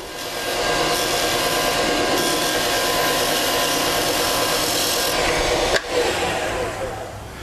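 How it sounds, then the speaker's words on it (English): A spindle gouge cutting a cove in wood spinning on a lathe gives a loud, steady close-up rasping hiss with a whirring drone, then a brief knock before it eases off near the end. "But we'll just use a spindle gouge."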